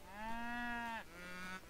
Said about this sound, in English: Should I do that on this map because of all the cows?